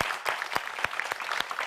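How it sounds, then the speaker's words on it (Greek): Studio applause on a Greek TV game show, a short burst of clapping with sharp, uneven claps from a small audience, fairly close and steady, with no talking over it. "Έλα να σε χειροκροτήσω."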